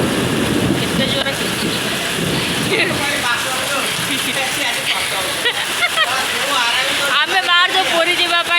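A heavy downpour with thunder, wind and hail on a trip toward Puri gives a loud, constant roar of rain. A voice talks over the storm in the later part.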